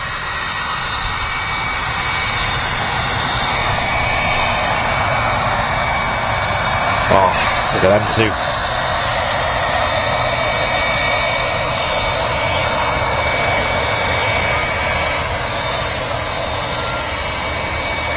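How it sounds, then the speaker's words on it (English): A Jet2 Airbus A330 with Rolls-Royce RB211 engines taxis at Manchester Airport, giving a steady, loud, broadband jet roar with a high whine throughout, while a person briefly speaks nearby. "You can just hear the wonderful sound of the RB211s as the Jet2 A330 taxis"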